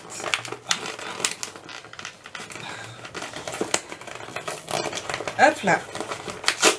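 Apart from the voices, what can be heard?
tearing a cardboard box open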